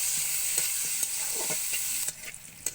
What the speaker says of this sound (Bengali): সামান্য একটু লবণ দিয়ে পেঁয়াজগুলোকে হালকা ভাজা করে নিতে হবে।